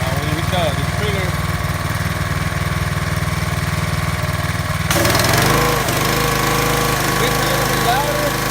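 A Troy-Bilt 3100 psi pressure washer with a Briggs and Stratton engine runs steadily, then near the midpoint the trigger is pressed and a harsher, slightly louder spray and engine load join in. A person talks briefly early on.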